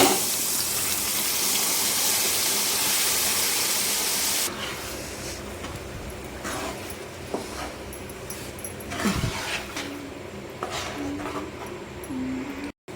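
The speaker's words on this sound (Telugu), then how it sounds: "ఇప్పుడు మిక్సీ వేసుకున్న చట్నీనంతా దీంట్లో వేసుకోవాలి" Ground curry leaf chutney tipped into a sizzling tempering in a pan, with a loud hiss and gush at first that settles into a softer sizzle with scattered stirring noises.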